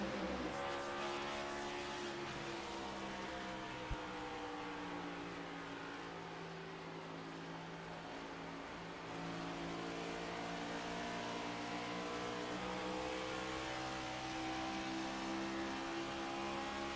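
Mobil 1 Ford stock car racing at Homestead-Miami Speedway in the iRacing sim, a continuous loud engine drone with layered harmonic whine from several cars, holding steady throughout with no talking.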